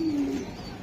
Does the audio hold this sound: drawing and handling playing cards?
no